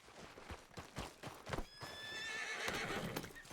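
A horse whinnies in a long shaky neigh over nearby clip-clop hoofbeats and outdoor bustle, fairly quiet overall, with the whinny rising in the middle.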